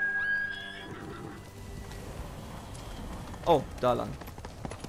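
A horse in the Ghost of Tsushima video game whinnies and snorts in short bursts near the end, with faint hoof sounds and rain-like background, while someone speaks briefly underneath.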